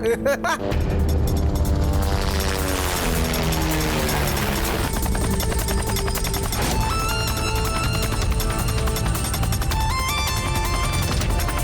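A cartoon police helicopter sound effect, a whirring rotor drone layered with swooping synthetic tones and music-like effects, loud and continuous throughout.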